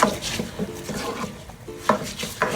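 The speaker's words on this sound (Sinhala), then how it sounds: "දැන් හොඳට මේ දෙක කලවම් කරගන්නවා" Rice grains being stirred and mixed in a pot with salt, giving soft scraping and rubbing strokes with a few sharper clinks of the spoon against the pot, close by and moderately loud, no talking.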